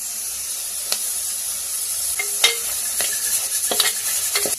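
Tomatoes frying in a pan with salt and turmeric, cooked down until soft for a brinjal curry: a steady soft sizzle with occasional sharp utensil taps and scrapes against the pan, no talking.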